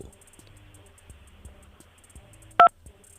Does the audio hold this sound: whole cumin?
no